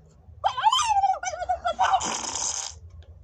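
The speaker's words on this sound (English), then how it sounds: "Did you just fart?" Comic game fart in Bash the Teacher: a loud, wobbly, descending brassy blast followed by a short raspy sputter, heard alone and close.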